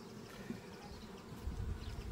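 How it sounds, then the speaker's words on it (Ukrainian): Honey bees buzz at an old-style apiary, a low, soft, continuous hum from many insects close by, swelling slightly toward the end with no voices. "Потужні в мене бджоли."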